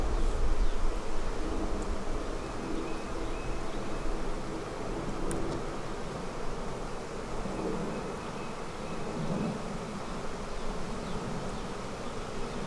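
Honey bees swarm around an opened beehive while two hives are combined, a dense continuous buzz close by that holds steady throughout with faint wind underneath and no talking.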